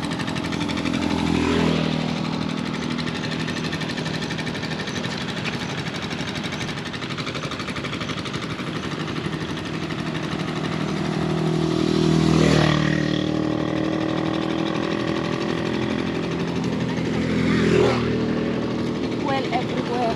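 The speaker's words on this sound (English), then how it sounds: "you got the pump" An irrigation water pump engine runs steadily in farmland at Badoc, Ilocos Norte, Philippines, a continuous mid-distance drone with people talking over it and slight swells in loudness.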